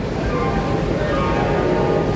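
The Howrah–Raxaul Express sits at platform eight of Howrah station amid a steady, loud rumble of train and station noise that runs unbroken for the whole stretch.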